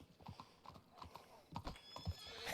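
A horse in the western roleplay game WildRP whinnies while its hooves clatter, apparently inside a building, with irregular close thuds and a neigh near the end.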